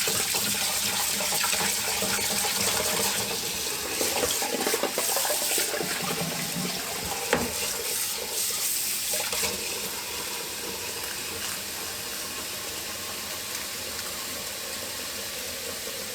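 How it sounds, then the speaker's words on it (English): Cold well water running from a kitchen tap over freshly boiled eggs in a pot, a steady splashing gush that spatters and shifts in tone, louder early on and easing slightly toward the end. "I'm going to run some cold well water over them."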